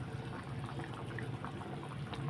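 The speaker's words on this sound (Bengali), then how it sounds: "এই যে ঘি দিয়ে দিলাম" Ghee poured into a cooking pot for a soybean curry: a soft, steady liquid trickle and faint bubbling, quiet and continuous for a couple of seconds.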